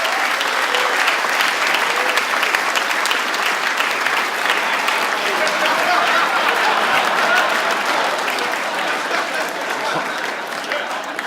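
A comedy club audience at a stand-up TV taping breaks into sustained, even applause, a dense wash of clapping from many hands lasting the whole stretch.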